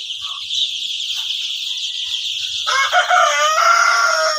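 Fayoumi chickens on a farm in Rangpur, continuous high clucking and chattering from many birds close by, joined by a long rooster crow partway through.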